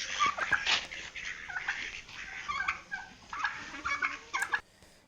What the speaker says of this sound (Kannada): ಅಲ್ಲೋಡಿ ಅಕ್ಕಿಲವ್ರ ತೋಟದಲ್ಲಿ ಬಾತು, ಟರ್ಕಿ, ನಾಟಿ ಕೋಳಿ ಎಲ್ಲ ಇದ್ದಾವೆ.